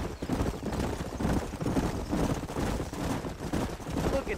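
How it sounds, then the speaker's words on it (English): Horses' hooves clip-clop in the Western video game Red Dead Redemption, a dense, continuous rumbling patter of several animals on the move, moderately loud. "Look at these here horses."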